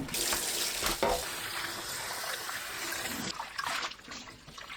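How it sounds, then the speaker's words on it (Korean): Cold tap water runs steadily into a kitchen sink as blanched fatsia shoots are rinsed, a continuous splashing stream with a brief louder gush near the start and a drop in flow toward the end. "찬물에 3, 4번 헹굽니다"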